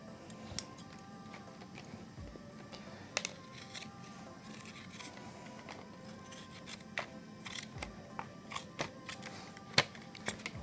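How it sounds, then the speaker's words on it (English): Scissors trimming the edges of splint material, a quiet series of irregular close snips and small clicks spread throughout over a low steady hum. "Trim off, trim off, trim off, all the way around the edge."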